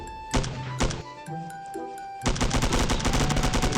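Rapid bursts of gunfire in the video game Milk Choco, a few scattered shots followed by a loud, sustained volley of rapid fire near the end.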